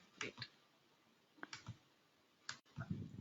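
A computer mouse gives a few faint, sharp clicks, scattered singly and in quick pairs across a few quiet seconds.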